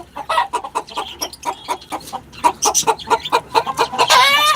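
Native country chickens raised on a Chennai rooftop terrace, roosters among them, give a steady run of clucks and crowing calls at close range, ending in a louder, harsher crow.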